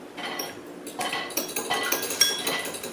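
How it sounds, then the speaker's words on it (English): An egg wash whisked in a bowl, a rapid run of light metallic clinks and taps of a utensil against the bowl, close and fairly quiet, growing steadier toward the end. "now I'm just making a egg wash to brush on top of the buns"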